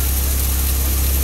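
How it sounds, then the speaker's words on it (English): A hydro jetter's engine idles at steady low revs, a loud, continuous low-pitched drone with broadband mechanical noise and no pauses. "You can see the motor, the engine is on idle right now."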